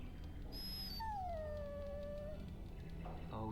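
A dog in the video game Dragon Age Origins whimpers with a long, high, falling whine, drawn out for over a second against a steady low background hum, with a shorter squeak just before it.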